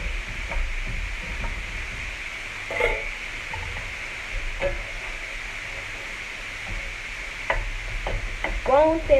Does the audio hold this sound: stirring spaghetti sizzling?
yes